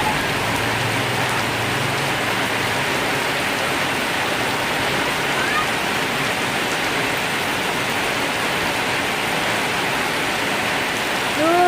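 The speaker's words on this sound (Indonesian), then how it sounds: "Benar-benar hujan berkat, tiada hari tanpa hujan." Heavy rain pours down outdoors in front of a house, a steady dense hiss of drops on surfaces that runs unbroken and loud from start to finish.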